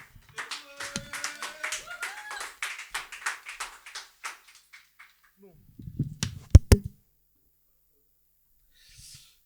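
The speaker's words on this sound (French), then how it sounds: "On l'applaudit jusqu'à ce qu'il monte sur scène." A small slam poetry audience claps as a performer makes his way onto the stage, scattered claps building into a short, close burst that fades out, followed by a few isolated louder knocks and near silence.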